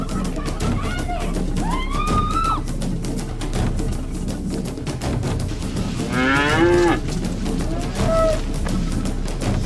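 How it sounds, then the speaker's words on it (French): Cattle low repeatedly amid a busy outdoor scene, several drawn-out moos rising and falling over a steady rumble of background noise and rhythmic clatter, with voices faintly mixed in. "Prends cette vache."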